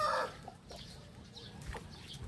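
Backyard chickens cluck faintly at close range, with a louder call at the start and then soft scattered clucks and rustling.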